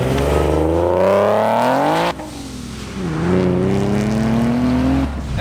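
A supercharged Nissan 370Z NISMO with a VQ37 engine and 6-speed manual revs hard, its loud close engine note climbing through the gears with a brief dip at a shift, then pulling again.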